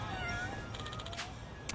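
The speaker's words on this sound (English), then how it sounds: "Got one of the cats." A cat in the video game Yakuza: Like a Dragon meows over game ambience, with a drawn-out mew followed by a rapid series of short, high chirping meows and a brief final cry.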